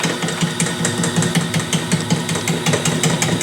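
A honey extractor spins during a honey harvest, giving a loud, steady mechanical whir with rapid rattling and clattering pulses throughout and no talk.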